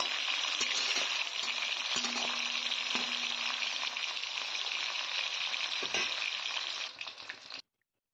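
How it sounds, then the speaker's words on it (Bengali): Katla fish frying in oil produces an even, low-level sizzle with faint crackles and an occasional knock before cutting off abruptly near the end. "তো মাছের পুরোপুরি মাছটা ভেজে নিয়ে আমি ফিরে আসছি।"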